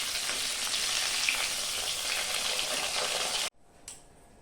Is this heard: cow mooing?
no